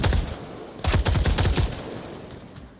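Gunfire in a first-person shooter video game, a quick loud rattle of several rapid shots after an opening shot, then a fading tail, with no talking.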